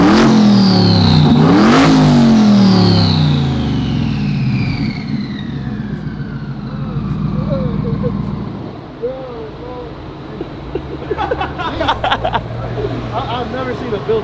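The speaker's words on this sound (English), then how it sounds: "You want me to give you a rev?" A 1600 hp twin-turbo Ford Raptor R engine revs hard up close, a loud rising roar that sweeps up and falls away, then idles and burbles with sharp pops and crackles while people talk nearby.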